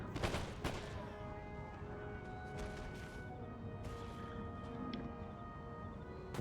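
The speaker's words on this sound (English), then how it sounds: "I heard another gunfire, which means cannon shell is inbound" Gunfire in the strategy game Empire: Total War. Faint, distant volleys crackle at the start and recur sparsely beneath steady tonal background sound.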